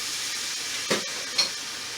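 A heaping tablespoon of jarred minced garlic sizzles steadily in bacon fat for a grilled gumbo, a loud close hiss with two brief scraping stirs, and no talking.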